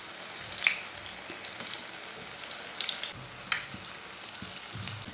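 Kebabs frying in a pan over medium heat, a quiet, steady sizzle scattered with soft pops and spits, with no talk.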